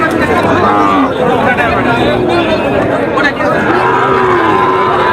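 Cattle, including Brahman cattle and bull calves, lowing amid a noisy crowd at a cattle market in Choubari, with overlapping moos and a steady babble of voices throughout.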